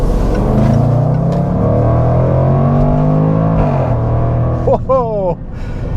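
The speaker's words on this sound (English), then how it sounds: "that crackle at the back of the exhaust and the exhaust system itself" A 2021 Range Rover SVR accelerates hard with a loud, sustained engine roar that climbs in pitch, then shifts and rises sharply again near the end, close and continuous.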